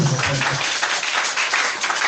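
A church congregation applauds to acclaim Jesus, a dense, loud wash of clapping that carries steadily throughout, with a voice briefly audible underneath at the start.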